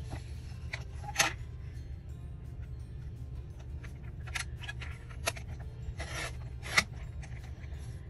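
Scissors cut out large paper tags, with a few sharp snips and rustling paper over a steady low hum, close but quiet, without talk.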